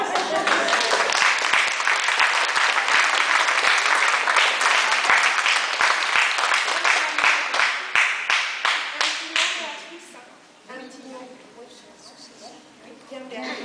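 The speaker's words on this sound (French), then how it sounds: "Alors, on va l'applaudir." An audience at an art exhibition opening gives dense, sustained applause that fades out after several seconds, then a voice speaks faintly in the quieter room.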